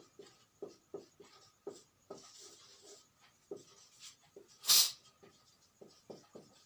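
Chalk or marker writing on a board during a geography lesson, producing short scratchy strokes in irregular bursts, close and fairly quiet, with one sharp louder squeak partway through.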